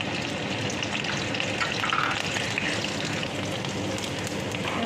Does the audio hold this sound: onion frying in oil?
yes